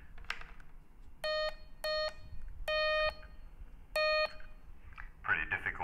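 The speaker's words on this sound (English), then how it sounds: "Morse code will be, well actually no, we do hear that locally." Morse code tones from a Kenwood TR-7200G VHF transceiver: four clean, steady beeps of differing lengths over a faint hiss of background noise, followed by a brief burst of scratchy noise.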